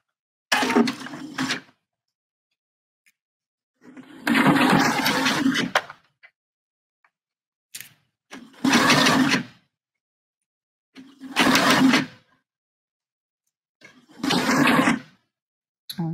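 A sewing machine stitches down the tail of a bra gore in five separate short runs, each lasting about a second and split by quiet pauses, with a steady whirring hum close by and no talking.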